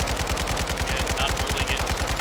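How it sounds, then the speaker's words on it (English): Rapid, continuous automatic fire from an RPK machine gun in the Warzone 2 firing range, a dense, evenly spaced burst of loud shots throughout. "We're gonna do the RPK first."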